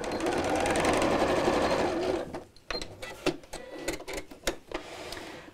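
A sewing machine stitches straight across the end of a fabric piece in a steady close whir for two seconds, followed by a series of sharp clicks and knocks as the fabric is handled.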